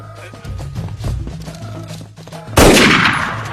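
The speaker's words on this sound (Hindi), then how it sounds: "अबे फायरिंग हो गई।" Gunfire in a Hindi-dubbed action movie: a sudden loud burst of shots erupts after a stretch of quieter, patchy sounds and decays into a ringing, noisy tail.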